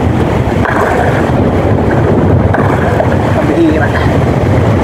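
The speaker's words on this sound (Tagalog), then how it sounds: "Ayan na yung hangin." Strong wind blows at sea in a steady, roaring rush that fills the whole stretch, with no pauses or gusts standing out.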